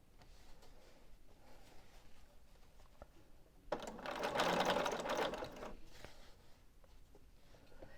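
A sewing machine stitches quilt binding fabric in one rapid, whirring run of about a second and a half, heard close amid quiet room tone and faint handling clicks.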